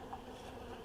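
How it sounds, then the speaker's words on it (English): A swarm of bees buzzing close to the camera, a brief steady droning hum with no pauses. "The bees are attacking the camera."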